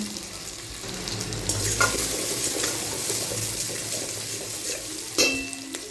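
Onions sautéing in a pan for Thanjavur fish curry, a steady close sizzle and frying hiss with stirring scrapes throughout, and a brief clatter near the end.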